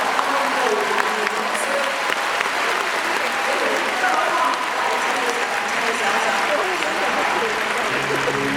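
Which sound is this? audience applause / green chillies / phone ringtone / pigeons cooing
audience applause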